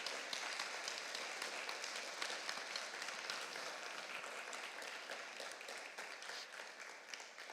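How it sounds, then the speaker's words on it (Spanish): Church congregation applauding together during a service, a steady, soft wash of many hands clapping that stays faint and even for the whole stretch. "¿Cuántos quieren darle un aplauso al Señor esta mañana, esta tarde ya?"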